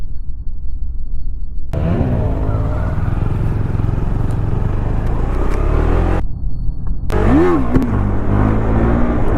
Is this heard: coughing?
no